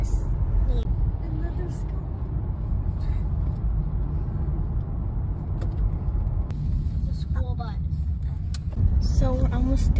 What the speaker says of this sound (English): The school bus.